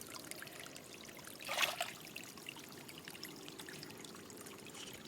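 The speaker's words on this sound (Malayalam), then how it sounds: "നമ്മൾ കുക്കിങ്ങിന് വേണ്ടി മലഞ്ചരുവിൽ നിന്ന് വരുന്ന ശുദ്ധമായ ജലമാണ് എടുക്കുന്നത്." Clear mountain-slope stream water flows in a faint, steady trickle, with one short louder splash or pour midway, quiet and alone.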